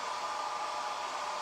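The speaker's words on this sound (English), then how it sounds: "I'm going to hook us up with this blow dryer because things are still wet" A blow dryer runs in a steady, even hiss and whoosh, close and continuous, aimed at wet craft pieces for a homemade vintage scale, with no talking.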